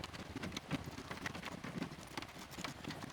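Horse hooves clip-clop steadily while pulling a cart in the Unicorn Princess video game, an even trotting rhythm at moderate loudness with faint patter behind it and no talk.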